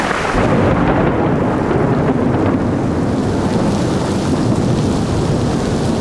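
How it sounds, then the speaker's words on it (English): Heavy rain pours down in Florence, Italy, in a dense, steady roar of broadband noise, continuous and loud with no pauses or voices. "it is absolutely pouring with rain today"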